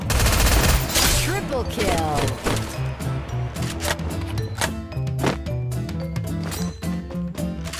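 Rapid video game gunfire in a battle-royale style shooter, dense bursts of automatic fire running continuously over game music and effects, with a player talking over the action.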